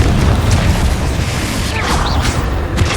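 Fiery Confringo blast spell in Hogwarts Legacy, a loud booming burst over dense rumbling game combat noise, with a brief whooshing sweep and a voice under the din.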